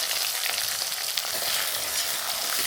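Onions and cumin sautéing in a pan for Coimbatore-style arisi paruppu sadam, a dense, even sizzle that holds steady throughout, near and clear with no voices.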